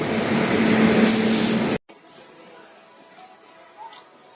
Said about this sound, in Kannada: ಇದು ನೋಡಿ ನಮ್ ಟ್ರೈನ್ ಬಂತು